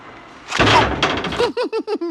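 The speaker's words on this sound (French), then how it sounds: "les portes coulissantes, c'était nouveau en France dans ces années" Electric sliding doors in a French comedy film, La Chèvre, thud and rumble shut with a loud slam, followed by a quick run of five short rising mechanical whines or beeps, close and without talk.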